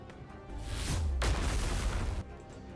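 A huge explosion in the video game Goddess of Victory: Nikke: a deep, roaring blast that swells and rumbles for nearly two seconds before cutting off, with low booming weight and a hissing wash on top.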